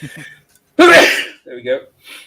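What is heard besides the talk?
sneeze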